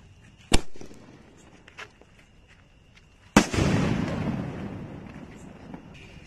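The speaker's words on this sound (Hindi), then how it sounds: "अब इस ऑरेंज वाले स्काई शॉट को चला के देखते हैं कैसा जलता है" An orange sky shot firework is lit and fired: a sharp crack, a smaller pop, then a loud burst followed by a long crackling, fizzing tail, close by and outdoors.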